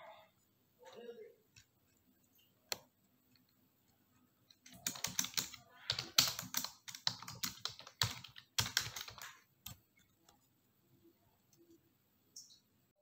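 Close, quiet computer keyboard typing for data-entry work comes in quick irregular bursts of clicks, busiest in the middle stretch, with brief pauses and a few isolated taps.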